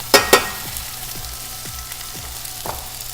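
Orange and herb crusted pork tenderloin browning in a hot pan with onion, a steady soft sizzle broken by a couple of sharp utensil clinks and light scraping taps.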